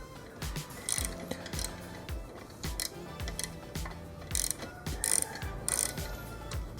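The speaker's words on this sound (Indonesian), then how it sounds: "Kita buka dulu baut yang ini guys." A ratchet wrench loosens the exhaust bolts on a 2021 Honda CBR250RR SP QS while an Akrapovic slip-on is being fitted, producing rapid, close, repeated clicking in bursts with brief pauses between.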